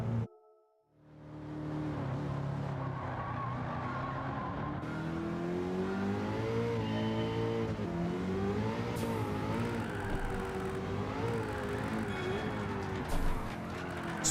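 A race car engine in a driving game revs and strains continuously under acceleration, pitch rising and falling through gear changes, loud and close with a brief turbo blow-off near the end.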